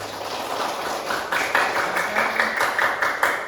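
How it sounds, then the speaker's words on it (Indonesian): Children clap together in a classroom, a close burst of hand claps that grows louder and denser partway through. "Terima kasih tepuk tangan semuanya"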